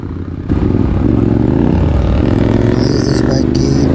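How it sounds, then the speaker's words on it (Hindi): A KTM Duke 200 motorcycle fitted with an aftermarket exhaust rumbles loudly and steadily on a main road, its engine note rising slightly after a brief quieter start, with wind noise in the background. "इस बाइक की साउंड सुनो, ये रहा है सर, इसमें लगा है एग्जॉस, इसलिए इसकी साउंड इतनी खतरनाक है।"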